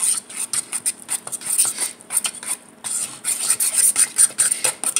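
A utensil stirs cornbread batter made with cornmeal in a bowl, producing repeated gritty, rasping scrapes in an irregular rhythm, close and fairly loud, with a short pause partway through.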